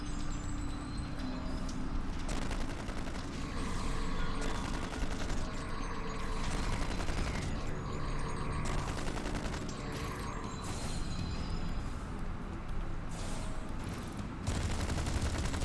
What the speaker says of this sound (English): I don't know why he just started firing into the air.